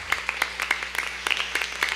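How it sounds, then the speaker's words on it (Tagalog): Congregation clapping hands together in praise at a church service, a steady run of sharp, fairly even claps from many people, moderately loud with a low hum underneath. "Clap our hands to dear Jesus."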